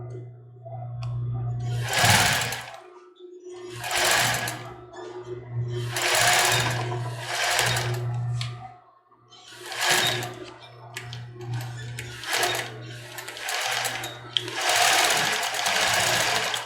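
A domestic sewing machine runs in short bursts while stitching a cropped top, whirring loudly for a second or two at a time with pauses between, and a low steady motor hum sounds in the gaps.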